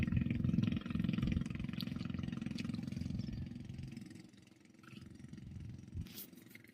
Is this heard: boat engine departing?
yes